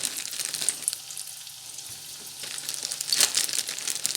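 Spring rolls deep-frying in hot oil give a continuous close sizzle with bursts of popping and crackling that swell toward the end.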